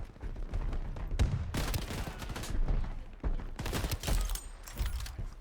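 Rapid weapon fire in the video game Shatterline, hip-fired in quick repeated bursts of loud, sharp shots with brief gaps between volleys.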